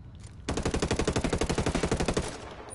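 Video game gunfire rips out as one sustained automatic burst of evenly spaced, punchy shots lasting about two seconds, loud and close, starting abruptly after a quiet moment.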